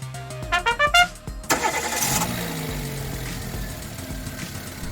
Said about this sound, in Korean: 모든 교체가 끝나고 시동을 걸어서 한번 아이들링 공회전을 시켜봤습니다